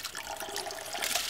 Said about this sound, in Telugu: ఇలా బియ్యం పోసి